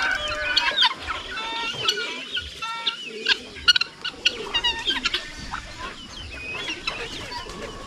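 Chickens cluck and squawk on a farm with young roosters among the flock, busy overlapping calls and sharp bursts that come and go close by, with no talk.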